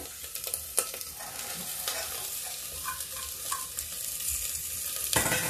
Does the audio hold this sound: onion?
yes